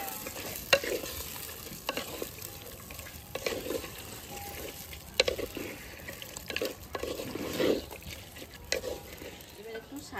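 Duck meat goes into fried spice masala in a clay pot: a low frying sizzle broken by irregular scraping and stirring strokes, with faint voices in the background.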